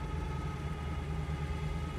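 A first-generation 1967 Chevrolet Camaro engine idles with an even, low throbbing rumble at moderate distance, steady for the whole stretch with no speech.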